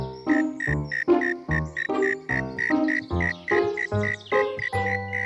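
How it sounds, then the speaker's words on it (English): A cartoon cricket chirps in a rhythmic series of about ten short, bright, croaky pulses, each one loud and close, with no talk over them. "It's from down there. Right at our feet. A cricket!"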